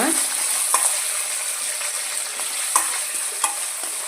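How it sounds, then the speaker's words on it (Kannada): Mustard seeds, cumin and chana dal frying in oil in a pan, a constant close hissing sizzle with a few faint pops and scrapes of stirring. "ಒಂದು ಸ್ಪೂನಷ್ಟು ಸಾಸಿವೆ ಜೀರಿಗೆ ಸಣ್ಣ ಕಟ್ ಹಚ್ಚಿ ಇಟ್ಕೊಂಡಿರೋ ಸ್ವಲ್ಪ ಕಡಲೆಬೇಳೆ ಹಾಕ್ಬಿಟ್ಟು ಸ್ವಲ್ಪ ಫ್ರೈ ಮಾಡೋಣ"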